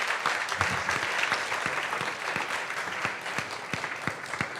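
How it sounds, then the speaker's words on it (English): A conference audience applauds its panelists with dense, steady clapping that holds for several seconds, broad and sustained without talk over it. "I think they do deserve another round of applause."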